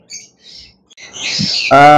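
Budgerigars and other caged birds at Mirpur's bird market give short, scattered chirps and calls, ending in a louder, buzzy squawk close by.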